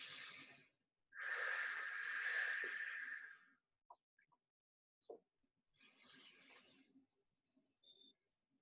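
Forceful breathing during a flex fit fitness class: two long, loud rushing exhales close by, a few short sharp sniffs, then a softer breath.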